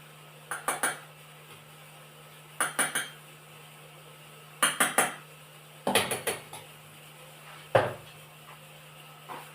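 A utensil clinking against a bowl while mixing gram flour batter for batata vada, with close, sharp bursts of three or four quick taps repeated about five times, separated by short pauses.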